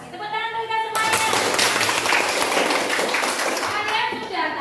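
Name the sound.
children clapping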